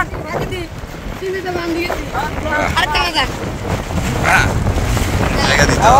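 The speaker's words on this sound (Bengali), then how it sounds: "সেটাই, ঝড় আসতেছে, বৃষ্টি" Strong stormy wind buffets a boat out on open water ahead of rain, a steady roar of gusts and spray that swells louder toward the end, with voices calling out over it.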